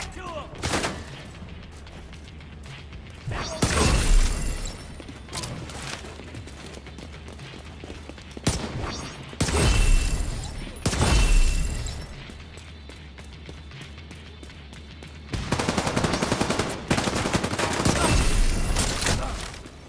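Gunfire in The Division 2, with loud bursts of rapid automatic fire in several separated volleys, near and heavy, among quieter stretches where voices talk.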